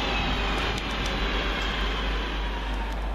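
Northern Rail unit 323235 pulls into Heaton Chapel station with a loud, steady rumble of wheels and motors close by and no voices.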